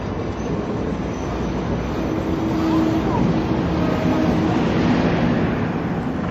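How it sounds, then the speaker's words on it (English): An Amtrak southbound train arrives at Fullerton station with a steady, broad rumble of rolling railcars that swells slightly as it nears, with a faint voice or announcement in the background. "now arriving Amtrak southbound train number 774"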